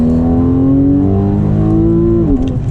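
A Porsche 991.1 Carrera S with a dual-clutch transmission accelerates hard, its engine note climbing loud and close in a steady rising pitch before a quick shift near the end.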